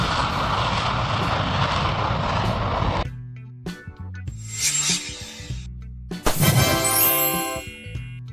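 Engines of a Soviet Myasishchev M4 bomber, first produced in 1953, give a dense, loud roar for about three seconds before it cuts off abruptly into unrelated tonal sounds.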